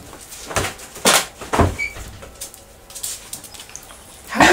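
A door in the video game The Murder of Sonic the Hedgehog thuds shut in several sharp knocks and slides, close and clear, with a faint bird-like coo in between.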